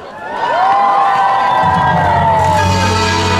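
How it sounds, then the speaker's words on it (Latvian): A large crowd at an opening concert of a Christmas market on Dome Square cheers and shouts loudly, with high children's voices and whoops rising in a sustained roar, and a low rumble building toward the end. "Gaidiet ar aplausiem!"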